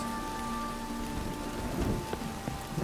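Steady rain pours down in The Witcher 3, a dense, continuous hiss that stays even throughout, with low rumbles and a few sharper drip-like ticks near the end.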